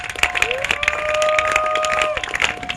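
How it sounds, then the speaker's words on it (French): A church congregation applauds and cheers in acclaim of Jesus, with rhythmic clapping and raised voices mixed with a sustained tone, loud and lively throughout the short moment. "Ces acclamations peuvent être mieux"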